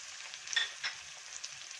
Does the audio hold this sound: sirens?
no